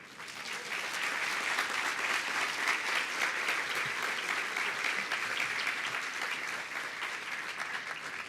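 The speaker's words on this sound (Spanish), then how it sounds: "Vamos a darle nuevamente un fuerte aplauso a José Castillo, amigo de los libros" Sustained audience applause after a keynote lecture on books and reading, a dense, steady wash of many hands clapping that holds at an even level throughout with no voices over it.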